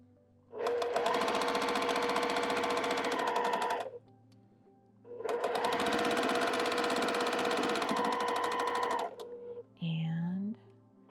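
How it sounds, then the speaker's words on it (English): A sewing machine stitching quilt pieces runs in two steady bursts of several seconds each, separated by a short pause, followed by a brief voice or scrape at the end. "We'll leave that in the machine while we get these 2 sewn together"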